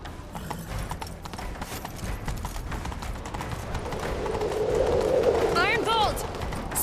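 Horse hooves clip-clopping in The Witcher 3 as a rider sets off in pursuit, a steady rhythmic patter under game ambience, with a brief whinny near the end.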